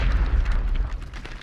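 A grenade explodes in the Hell Let Loose video game with a loud, deep, rumbling boom that rolls on through the whole short moment.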